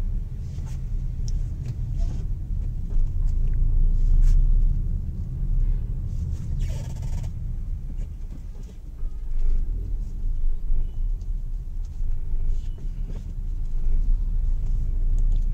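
Road traffic heard from inside a moving vehicle in Delhi, a steady low rumble of engines and tyres with a brief swell of noise midway, no talking.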